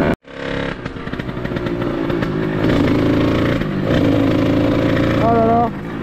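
A Sherco 50 motorcycle engine starts with a sharp pop, then runs loudly and steadily nearby, its revs rising and falling a little as it warms up.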